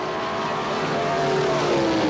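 Drag racing cars roar down the strip at a 1977 NHRA Sportsman event, a B Econo Altered with a single four-barrel Chevy engine against a Dodge Hemi on two four-barrels, heard as a continuous distant engine drone with a rising pitch sweep.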